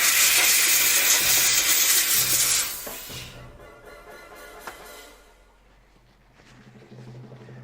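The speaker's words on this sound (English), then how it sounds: "I'm gonna steam it one more time." A handheld steamer lets out a loud, broad hiss for about three seconds while steaming, then cuts off and leaves quieter rustling and handling sounds.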